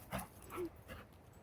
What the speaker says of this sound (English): Everybody's dogs decided to come and see me.